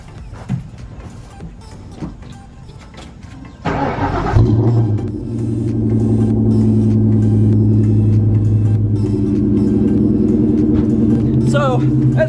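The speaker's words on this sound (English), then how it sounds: "let's go ahead and get an official cold start with the car" A car with a BBK Off-Road X-pipe, stock headers and Borla Stingers mufflers cold-starts: quiet handling clicks, a sudden crank and catch, then a loud deep steady idle rumble close by.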